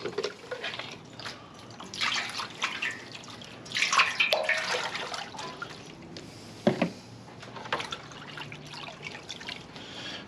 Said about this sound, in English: we'll get the pan, put it here, and giving this a rinse out